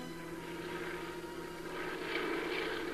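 Forestry Department aircraft droning steadily overhead across devastated, burned-out mountains and hillsides near Malibu, a continuous engine hum that swells slightly louder toward the end, with no voices.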